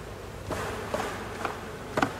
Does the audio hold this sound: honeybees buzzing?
yes